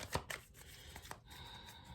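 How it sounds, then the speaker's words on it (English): A deck of tarot cards being shuffled close up, with quick riffling bursts and soft papery slaps, fairly quiet and with no talking. "I'm going to shuffle."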